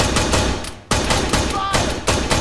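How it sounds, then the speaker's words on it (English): Enemy gunfire in the military video game Arma 3 crackles as rapid bursts of automatic shots, loud and close, with short gaps between volleys. "Enemy fire!"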